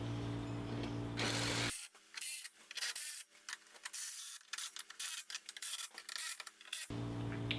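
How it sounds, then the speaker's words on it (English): Screws are driven into a skid plate on a Polaris RZR 4 side-by-side, with a power driver whirring in loud bursts at the start and end and irregular ratcheting, scraping clicks in between. "once you get all 7 screws in, go ahead and snug it down"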